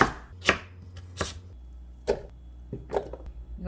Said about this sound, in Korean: 무는 이제 딱딱해서 잘 안 갈리니까 이렇게 썰으세요.